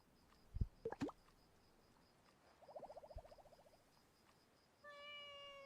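A cat in the game Heartopia gives a few soft meows among small plops and a rippling chirp, then a chiming tone at the end, all faint.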